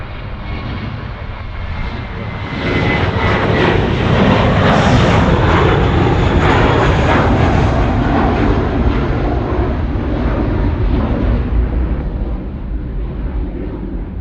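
A large jet airliner, an Airbus A380 among the arrivals landing at Sydney Airport, roars as a loud, sustained engine rumble that swells after the first few seconds and holds steady near the listener with no talk.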